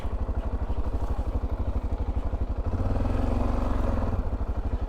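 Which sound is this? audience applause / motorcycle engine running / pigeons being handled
motorcycle engine running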